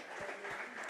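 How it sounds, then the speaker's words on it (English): Faint, distant applause from an audience welcoming a guest at a Chicken N Pickle event, a soft continuous patter of many hands with no talking. "Let's give a round of applause."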